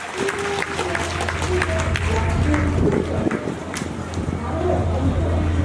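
Festival audience applauding after a traditional liquor-making demonstration, a sustained patter of many hands clapping outdoors with a low steady hum beneath and some voices mixed in.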